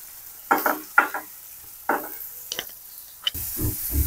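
Finely chopped onion with garlic-ginger paste in a little oil sounds like a faint sizzle under several loud, close scraping stir strokes, ending in a burst of heavier clattering stirring; no voices.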